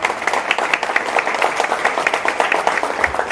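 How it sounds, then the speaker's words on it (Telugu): Audience in a hall at a blanket donation drive event claps loudly and steadily, a dense continuous patter of many hands filling the space without pause. "ఒక్కసారి గట్టిగా చప్పట్లు కొట్టాలి"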